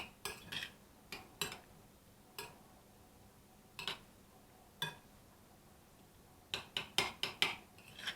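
A large spoon mixes avocado tartare with mustard and lemon in a bowl, giving scattered faint clicks and scrapes of metal on the dish, with a quick cluster near the end; no voices.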